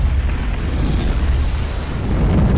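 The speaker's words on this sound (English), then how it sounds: "And ignition is good. We are go for liftoff." Rocket engine ignition and liftoff in the game Kerbal Space Program, heard as a loud, continuous low roar and rumble that stays steady throughout, with no talking over it.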